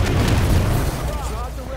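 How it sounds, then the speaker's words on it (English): A grenade blast in Halo 5: Guardians gives a heavy, booming burst up front that rolls off into a rumbling tail over game sounds. "Throwing grenade."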